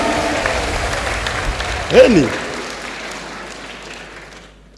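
A crowd applauds a Nyeri member of parliament at a furniture shop opening, a loud burst of clapping that swells and then fades out under a speaker's voice.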